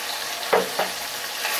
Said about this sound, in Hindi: सबको अच्छी तरीके से हम मिक्स कर लेते हैं